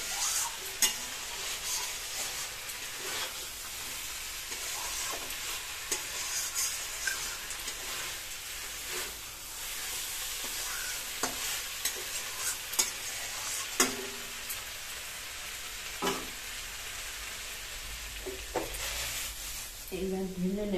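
Cauliflower and prawns stir-fried in a pan for biryani, a soft continuous sizzle with occasional scraping stirs and utensil taps, fairly quiet throughout.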